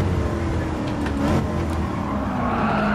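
A 1965 Shelby Mustang GT350 in Gran Turismo 7 at Laguna Seca, its engine held at a steady loud roar at full throttle with a slight pitch shift partway through.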